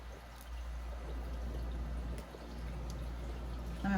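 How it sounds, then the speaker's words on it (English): Hands are washed under running water, a soft, steady trickle and patter over a low hum, fairly close, without speech. "let me wash my hands"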